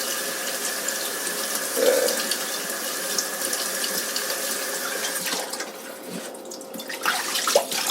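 Tap water runs steadily into a kitchen sink while yakisoba noodles are rinsed and pulled apart, a continuous close splashing stream that eases slightly toward the end.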